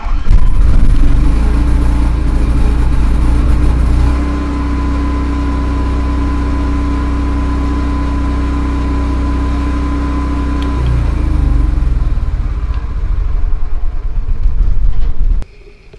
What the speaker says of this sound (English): we're going to start the generator just like if it was normally just sitting